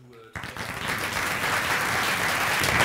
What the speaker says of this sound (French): pense qu'on peut encore applaudir tout.